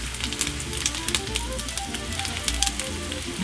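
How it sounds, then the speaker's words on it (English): Eggs fry in hot oil in a pan with a dense, steady sizzle full of crackling pops, close and continuous, with faint background music underneath and no talking. "Now we're going to do some eggs in here."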